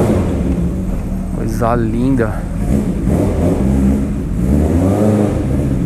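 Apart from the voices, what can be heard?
Honda CB750K 1979 motorcycle engine revving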